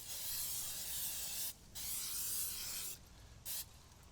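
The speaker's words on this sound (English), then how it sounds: "Before I get going, I'm going to add that spray on the inside." Cooking spray hisses from a can into a Dutch oven for an apple cake: two long, steady bursts, then a short final puff, close and fairly loud.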